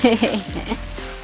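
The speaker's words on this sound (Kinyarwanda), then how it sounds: "Turakaranga karoti zacu rero kugeza zihiye, tubone gushiramo cya kirayi." Carrots fry in a hot pan before potatoes are added, giving a close, steady sizzle. A brief voice is heard at the start.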